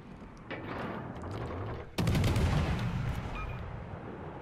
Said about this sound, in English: That's our SAP shells going off.